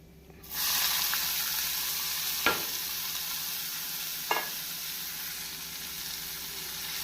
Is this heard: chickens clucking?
no